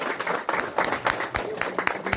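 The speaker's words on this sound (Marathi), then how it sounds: "सगळे टाळ्या वाजवते." A crowd claps at a Datta Jayanti festival honoring ceremony in a Konkan village, with uneven overlapping hand claps over a few seconds and faint voices murmuring underneath.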